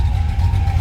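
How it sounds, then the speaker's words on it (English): A household washer and dryer running nearby, giving a steady low droning hum with a faint tonal whine above it, continuous and fairly loud for under a second with no talking. "That is my washer and dryer."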